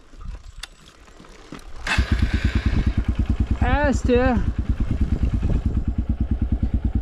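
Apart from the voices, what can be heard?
Honda XR150 motorcycle with new exhaust riding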